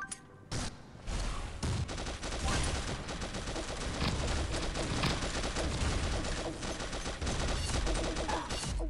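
Rapid bursts of automatic gunfire crackle almost continuously in the Pixel Gun 3D mobile shooter, dense and loud with brief gaps, with no talking.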